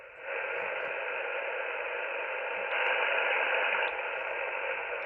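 Steady broadband hiss and static from an Icom IC-R75 communications receiver with noise reduction engaged, holding continuously at even loudness with a slight rise midway, no voice present.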